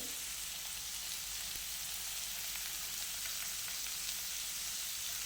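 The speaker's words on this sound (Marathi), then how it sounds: "हे आपले चिकनचे तुकडे आता भाजत आलेले आहेत" Chicken pieces fry in butter in a hot pan, giving a steady, faint sizzle and crackle with no talking.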